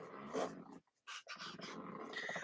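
A puppy growls and snarls close by in two bursts separated by a short pause, the second long and rumbling.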